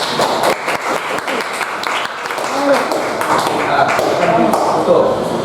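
Classroom applause for a classmate after a presentation, a dense burst of many hands clapping close by that continues steadily, with people talking over it.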